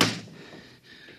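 A bar dropped across a door to hold it shut as a radio drama sound effect, a single sharp clunk at the start that fades into quiet room tone.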